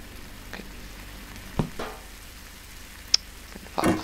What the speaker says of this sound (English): Let's go stir this around